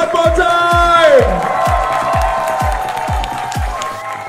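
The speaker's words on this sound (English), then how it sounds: "please, a big round of applause one more time" Audience at the Mister International swimwear pageant show cheers and claps, with a loud shout rising and falling over the crowd, then steady applause under a regular thumping beat that pulses roughly twice a second.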